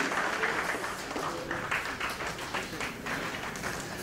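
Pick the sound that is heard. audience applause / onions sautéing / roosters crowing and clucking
audience applause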